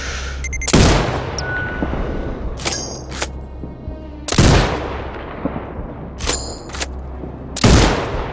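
Sniper rifle shots in the video game Sniper Ghost Warrior Contracts 2, several loud single cracks spaced a few seconds apart, each with a long echoing tail, over a low steady ambient hum.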